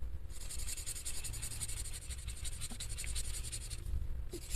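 A marker scratches steadily across a coloring page in continuous close strokes, with a brief pause near the end, alone in a quiet room.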